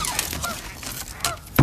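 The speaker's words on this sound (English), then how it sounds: "there's a duck, a mallard duck that just went through there" A mallard duck calls in a spring marsh while a kayak passes through, giving short honking quacks over a steady wash of water and movement noise, with a louder close burst at the end.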